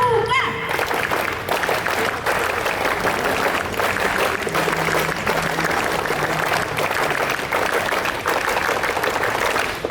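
A large crowd at a Pramuka scout day ceremony claps, a brief voice opening before a continuous wash of fairly distant clapping with rhythmic pulses that may be the three-beat scout clap.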